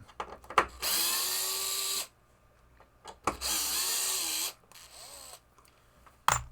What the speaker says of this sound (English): I said I had to take these 2 screws out